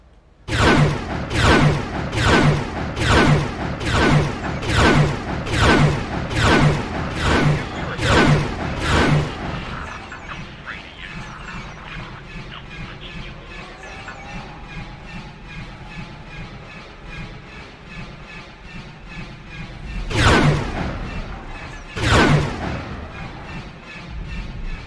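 Weapons fire in a space dogfight in the X4: Star Wars game: a loud, evenly spaced barrage of about a dozen heavy cannon blasts, then a quieter rumbling lull, then two more sharp blasts near the end.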